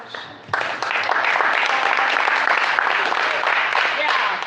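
An audience at a live event applauds for a coach, the clapping swelling in sharply after a brief lull and holding dense and loud, with voices mixed into the crowd noise.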